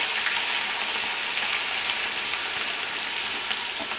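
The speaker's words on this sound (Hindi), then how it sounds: "डाल के आप इसे अच्छे से सौते कर लें।" Ginger garlic paste sautéing in oil in a pan for Hyderabadi nahari paya, giving a steady, dense sizzle with faint stirring scrapes, even and close throughout with no voices.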